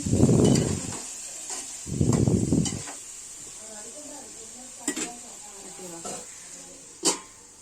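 Tomatoes added and stirred into a hot cooking pan, two loud sizzling bursts followed by softer scraping and a few sharp utensil clinks, with a voice talking through it.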